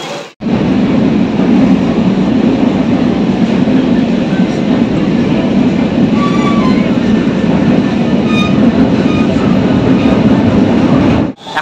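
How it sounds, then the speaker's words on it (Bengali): Kolkata metro train at Kudghat station, a loud steady rumble of the moving train with rail and wheel noise running continuously for the whole stretch, a few faint high tones rising above it. "তো চলো আগে আপাতত কুদঘাট মেট্রো স্টেশন থেকে মেট্রো ধরে যাব।"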